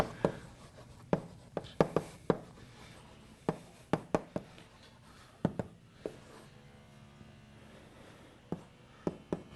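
Chalk or marker tapping and scratching on a board during a data structures lecture, sharp irregular clicks and short strokes close by, fairly quiet with no talking.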